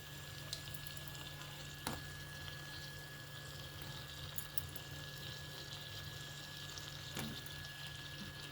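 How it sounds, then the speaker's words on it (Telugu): Eggplant pieces hit a pan of fried onions and sizzle softly and steadily, a faint close crackle with occasional small clinks and no voices. "ఇప్పుడు మనం వంకాయ ముక్కలు వేసేసుకుందాం."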